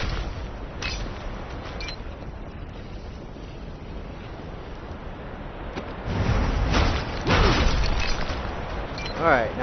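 Stone statues smashed apart in Castlevania: Lords of Shadow 2, heavy crumbling booms and debris bursts growing louder toward the end over a steady game background.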